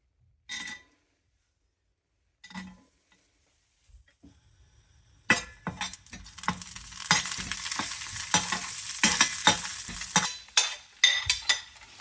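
Raisins and cashew nuts dropped into hot ghee in a small pan set off a close, steady sizzle with bright crackling bursts, after a few separate clinks and quiet gaps at the start.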